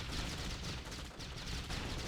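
Flak cannon fire bursts continuously in a Red Alert 2 multiplayer match, a dense, loud barrage of rapid gunfire and explosions with no pauses.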